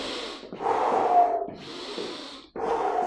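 Heavy exercise breathing during a beginner fat-burning HIIT workout: loud, close inhales through the nose and forceful exhales through the mouth, in three breath cycles with no talking.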